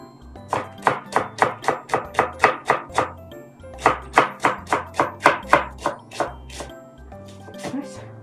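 Green onions chopped with a knife on a board, a quick run of about ten close, sharp knocks, a short pause, then another run of about ten, and a few softer cuts at the end.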